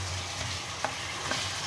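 Chicken pieces frying in white oil give a soft, continuous close sizzle with a couple of faint clicks from stirring, no voices.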